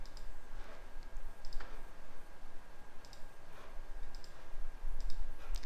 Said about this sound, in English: and I click on OK